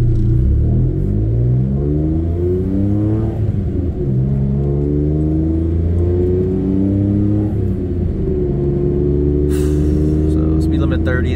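A 1995 Honda Today kei car drives along with a steady low engine rumble and whir, its pitch rising and falling through gear changes, close and continuous.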